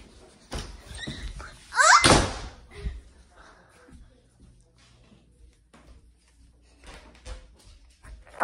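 A door swings shut with one loud thump in a house during a game of hide and seek, followed by quieter shuffling and voices talking.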